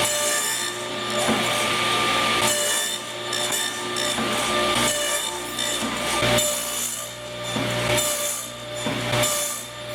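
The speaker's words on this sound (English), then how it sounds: "So I'm going to have to make some rabbets on the ends of my board" A saw blade cuts rabbets into the ends of a cherry or maple board for a planter, a loud whining rasp that comes in repeated passes with short dips between them, no speech.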